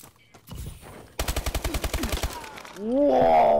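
A fast burst of about a dozen evenly spaced gunshots in a video game, loud and close, with scattered talk and game noise before it and a swelling effect sound afterward.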